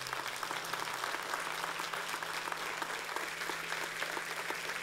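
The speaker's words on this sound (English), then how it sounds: "Can we give them some applause?" Quiet, distant clapping from a congregation or audience, a steady patter of applause heard faintly with a low hum underneath.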